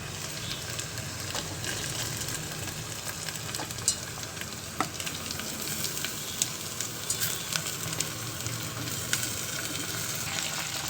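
Spiny gourd pieces sizzle steadily in a hot pan of oil for a Telugu-style curry, a continuous close crackle with small pops and occasional stirring scrapes, no voices.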